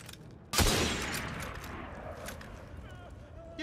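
A sharp gunshot blast from the video game Assassin's Creed Syndicate, set in a pub, rings out once and decays into a lingering echo, with a faint voice in the background.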